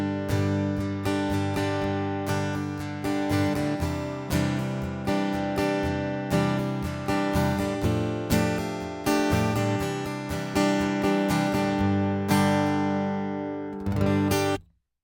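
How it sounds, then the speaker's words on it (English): An acoustic guitar amplified through an undersaddle pickup with the effects pedal and preamp switched off plays a rhythmic strummed and picked passage for about fifteen seconds, close and bright, ringing out at the end, with no voices. "So that is the sound of an undersaddle transducer, undersaddle pickup."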